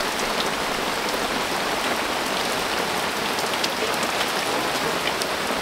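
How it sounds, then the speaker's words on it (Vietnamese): Heavy rain pours steadily, a dense, loud hiss of drops drumming on surfaces with no letup. "trời mưa to quá"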